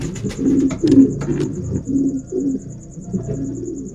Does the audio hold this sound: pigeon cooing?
yes